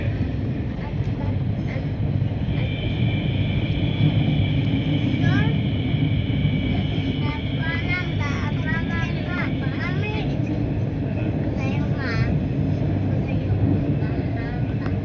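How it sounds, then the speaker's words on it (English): A Siemens Nexas suburban electric train on Melbourne's Craigieburn line runs through an underground tunnel, a steady loud rumbling roar with rising motor whine, heard from inside the carriage as a voice speaks over it. "This is a Craigieburn line train."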